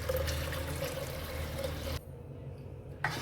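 Water poured into a dal mixture with chili, salt, turmeric and oil, a steady splashing pour that runs for about two seconds before cutting off abruptly, leaving a faint low hum.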